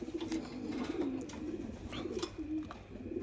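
Young racing pigeons coo steadily in a crowded loft, their low, throaty calls repeating close by with soft rustling and no talking.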